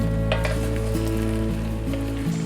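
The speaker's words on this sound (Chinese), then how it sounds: "快速翻炒至鸡肉上色，开始倒入调料，4勺料酒，切好的生姜和干辣椒，4勺酱油" Chicken sizzles loudly as it is stir-fried in a pan with soy sauce, cooking wine, sliced ginger and dried chillies, a dense steady frying hiss with scraping stirs and clinks.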